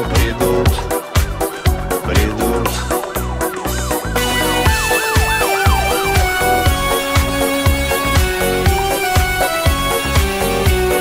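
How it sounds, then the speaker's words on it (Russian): A police siren in the video game GTA CRMP wails in rising and falling sweeps at night, partly buried under loud driving music with a steady thumping beat. "Опять в ночи ревет сирена"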